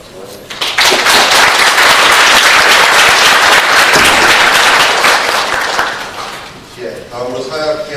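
Sustained applause from an audience at a formal anniversary ceremony of a social development research institute, loud and steady for several seconds before tapering off, with a voice speaking at the end.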